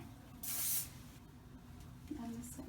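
A short hiss of an aerosol spray sounds once, close and brief, against a quiet room with faint background hum.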